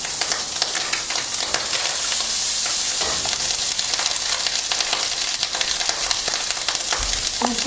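A tablespoon of butter stirred into egg in a hot pan, a continuous bright sizzle with light scraping from the stirring, close and steady with no talking.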